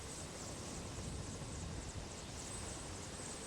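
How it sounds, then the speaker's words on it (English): Bell 407 helicopter with a four-blade flex-beam rotor in Microsoft Flight Simulator, a steady, loud broadband engine and rotor roar over downtown Dallas, unbroken and without talk. "We will take the Bell 407 for our short trip through the city."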